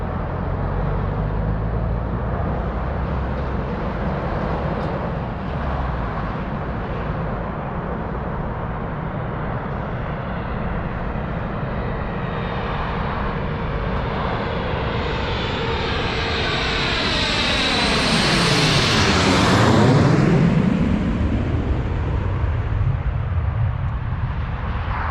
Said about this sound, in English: Here they come, gear down to land.